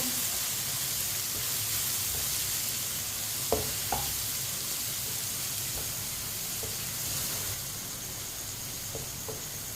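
Ground turmeric, coriander and red chilli powder cook in a pan for a tori sabzi. A soft, steady sizzle carries a few faint clicks from stirring, with no voices.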